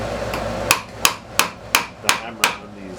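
A small hammer strikes the flared lip of a silver ring shank being shaped into a Southwestern style ring. Six sharp, ringing metallic blows fall at a steady, even pace, close and loud over a faint background hum.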